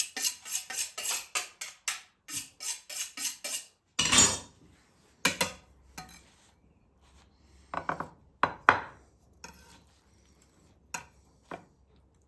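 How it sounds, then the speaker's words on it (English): A knife slices a pan-seared lion's mane mushroom steak on a cutting board, giving a rapid run of crisp, close cuts and taps against the board, then a pause and a few scattered knocks and scrapes. "then we'll start slicing it and see how it comes out"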